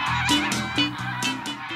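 Domestic geese on a farm meadow honk loudly and close by in a quick, repeated series of about six calls.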